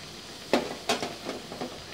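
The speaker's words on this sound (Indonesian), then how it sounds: "Aduk-aduk hingga matang." Docang vegetables being stirred and fried in a pan, with a few distinct scraping or clattering stir strokes over a steady low sizzle, close by and moderately loud.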